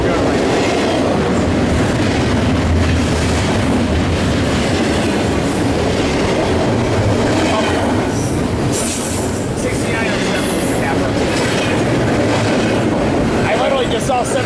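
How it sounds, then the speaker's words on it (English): A train passes close by at Fullerton station with a loud, continuous rumble, rhythmic wheel clatter and occasional squealing, and voices can be heard faintly beneath it. "Oh, the breeze off the train feels so good right now."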